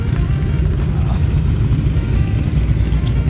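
Busy road traffic streams past a sidewalk on the Great Western Highway, a steady dense roar of engines and tyres filling the whole stretch without pause.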